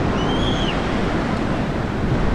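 Ocean surf rolls and breaks along the South Africa Garden Route coast in a steady, dense wash, with a brief faint whistle-like tone early on.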